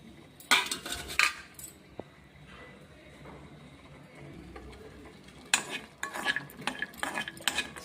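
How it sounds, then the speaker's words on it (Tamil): Jaggery melts in a pot over low heat while a spoon stirs it, making a few clinks and scrapes against the metal, separated by quieter stretches of soft background. "சுலோவிலேயே வச்சு அப்படியே கிண்டி விட்டுட்டிங்கன்னா அந்த அப்படியே அந்த வெள்ளம் அப்படியே உருகிடும்"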